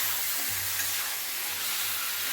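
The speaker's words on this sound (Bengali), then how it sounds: "এখন আমি এটা নাড়বো" Chicken curry is sautéed in a pan, a continuous loud hissing sizzle with steam and a faint low hum underneath, with no clear distinct strokes.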